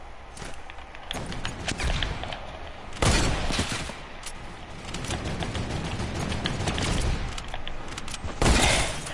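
Bursts of video game gunfire during a trick shot, a loud volley of rapid shots with sharp cracks and booms ringing out over a steady background rumble.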